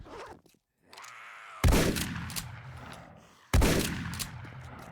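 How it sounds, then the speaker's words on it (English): Two loud, sharp gunshots ring out from a gun in the survival video game 7 Days to Die, each blast followed by a long, fading echo, with quieter shuffling before the first. "I keep forgetting that this gun is super loud."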